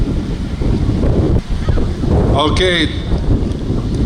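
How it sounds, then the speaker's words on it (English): Strong wind gusts buffet the microphone at an outdoor holiday parade and tree lighting, a loud, constant low rumble under a voice, with a brief whistling tone partway through. "Very windy out today."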